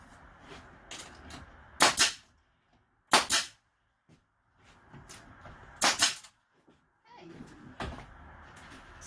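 Staple gun driving staples into wooden frames for a Layens horizontal beehive, several sharp loud snaps spaced irregularly, with quiet handling noises between them and no talking.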